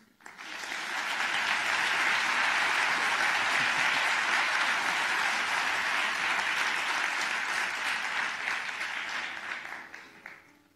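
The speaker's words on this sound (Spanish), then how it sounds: "Un aplaudiment per ells." Sustained applause from a conference audience in Barcelona, steady and loud for about ten seconds before tapering off at the end.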